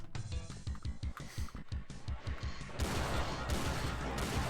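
Enemy gunfire in the video game Doom 2 rattles in rapid, evenly spaced loud shots for a few seconds, then gives way to a denser, continuous burst of noisy firing.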